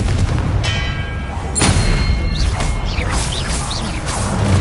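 A Confringo spell in Hogwarts Legacy goes off as a heavy booming blast, and whooshing magic swishes and crashing impacts follow it over a loud, busy game background.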